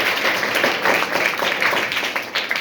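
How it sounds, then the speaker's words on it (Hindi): A classroom of students applauds a classmate with a short burst of brisk, dense clapping from many hands, close and fairly loud, fading slightly toward the end. "चलो जाइए, ताली बजाओ एक बार इनके लिए।"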